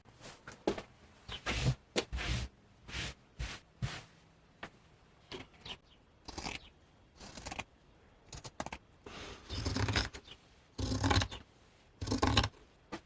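Scissors snip through fabric pieces for a Trigun cosplay build, a string of crisp, close cutting strokes in bursts with short pauses between, no talking.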